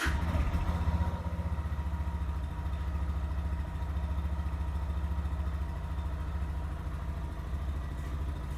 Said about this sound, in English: All right, let's go ahead and start it up.